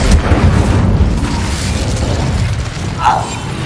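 Incendio fire spell cast in Hogwarts Legacy, a loud rushing burst of fiery, rumbling noise that holds steady and then ends with a brief bright flare.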